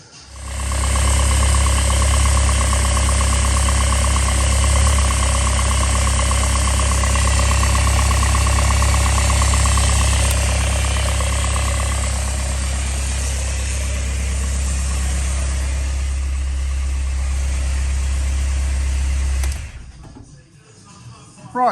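A Fiat Panda 4x4 running on a swapped-in donor Punto engine, idling steadily with a loud low droning hum for about twenty seconds before cutting off abruptly, close up in a workshop.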